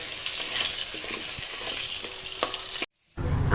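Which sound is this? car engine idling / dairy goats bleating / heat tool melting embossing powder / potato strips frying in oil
potato strips frying in oil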